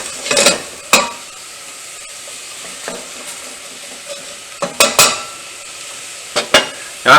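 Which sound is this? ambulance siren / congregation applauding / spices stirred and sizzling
spices stirred and sizzling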